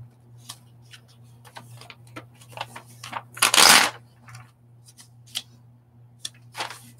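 Scissors fussy cutting a picture out of a magazine, a string of soft irregular snips and paper rustles with one louder crunchy cut in the middle, close up over a low steady hum, no talking.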